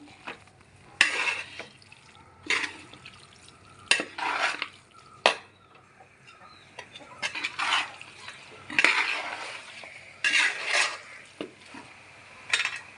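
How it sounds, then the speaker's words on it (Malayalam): Onions stirred in a cooking pan with a metal utensil, irregular scraping and clinking bursts separated by quiet gaps, close and distinct, with a faint sizzle beneath. "ഇതിൻ്റെ ഈ ഉള്ളിയും എല്ലാം ഇതിൽ കൂടെ ചേർത്ത് ഇളക്കി"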